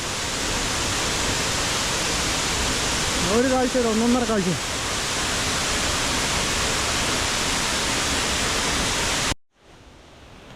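A waterfall in the Idukki countryside pours in a dense, steady roar of splashing water heard close by. Someone speaks briefly over it, and the sound cuts off abruptly near the end.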